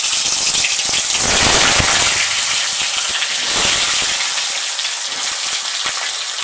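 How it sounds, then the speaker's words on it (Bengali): Potato pieces coated in turmeric and salt fry in hot mustard oil, giving a loud, steady, close sizzling hiss with no voices. "জন্য আমি এখন সরষের তেল দিয়ে দিচ্ছি। আমি এখন আলুগুলো ভেজে নিব।"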